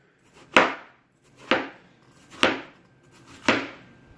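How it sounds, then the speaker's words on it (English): A knife chops through a quarter of a watermelon into slices, four crisp, evenly spaced cuts about a second apart, each a sharp close thud with a juicy crunch, no voices. "cut it into more slices like this"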